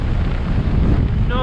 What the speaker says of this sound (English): Just too windy here.